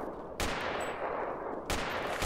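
Submachine gun fire in the video game Project Reality 2: sharp, loud bursts at close range, with two distinct shots or short bursts separated by a longer reverberant tail.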